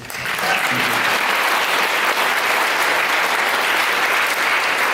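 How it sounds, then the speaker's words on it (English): Sustained audience applause at a university student cultural show opening, a dense wall of clapping from a large crowd that swells in within the first half second and holds steady and loud throughout. "that in itself deserves a round of applause in advance."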